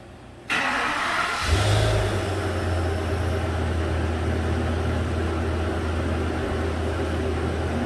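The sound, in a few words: 2014 Ford F550 truck engine started and running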